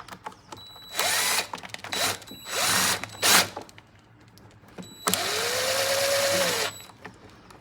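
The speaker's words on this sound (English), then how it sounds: "I'll screw these in." Power drill driving screws while servicing a Stihl BR550 backpack blower: several short whirring bursts, then one longer run with a falling pitch, close and distinct, with clicks between them.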